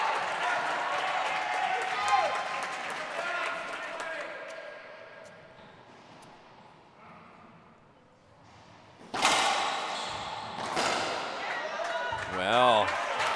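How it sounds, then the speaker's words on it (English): A loud crowd roars and claps in bursts at a racquetball world championship men's singles match in San Jose, Costa Rica, with sharp ball and court impacts and a commentator talking over the noise. "The crowd is very loud here in San Jose, Costa Rica."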